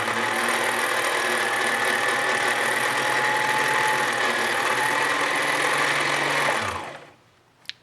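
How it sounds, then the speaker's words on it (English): A sewing machine's motor whirs steadily while winding thread onto a bobbin under foot-pedal control, a continuous close hum that runs for several seconds before stopping abruptly, followed by quiet and a single small click. "slowly press your foot, and it's going to load the bobbin"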